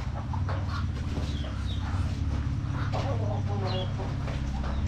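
Chickens and ducks crowd a home yard in large numbers, scattered clucks and calls coming through a loud, constant rumble of background noise.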